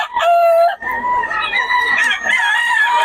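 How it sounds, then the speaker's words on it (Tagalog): At a market in Bocaue, several chickens cluck and a rooster crows loudly and close by, calls overlapping continuously. "Ang daming manok ngayon."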